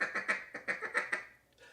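A duck call produces a rapid run of soft, raspy quacking notes, about seven in quick succession, mimicking mallards feeding, then fades out.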